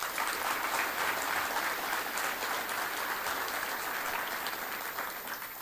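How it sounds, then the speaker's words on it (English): Audience at a Chamber of Commerce firefighter awards breakfast applauds, a sustained full round of clapping from a large room, loud and even, tapering slightly toward the end. "Please give them a round of applause."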